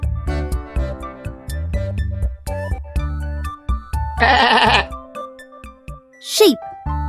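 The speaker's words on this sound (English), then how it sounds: "Sheep." A sheep bleats once, loud and close, with a quavering cry that follows music, and a short high bleat comes after it.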